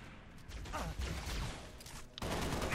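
Rapid gunfire in the video game Halo Reach, a dense burst of shots fired into a crowd of enemies and against shields, loud and continuous with a short lull near the end.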